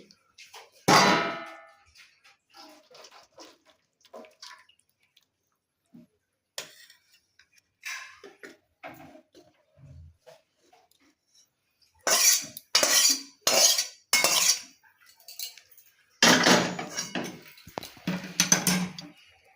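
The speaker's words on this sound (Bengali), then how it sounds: "ঝোলটা আমি এবার থালার মধ্যে নামিয়ে নিচ্ছি" Metal ladle clinking against a pot and plate while fish curry with eggplant is served, sparse sharp clangs and taps in scattered clusters, close and fairly quiet between strikes.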